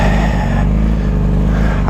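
A 2007 Yamaha YZF-R6 sport motorcycle engine running loud and close on a ride, a steady high-pitched buzzing drone with rich harmonics and slight pitch shifts, no talking.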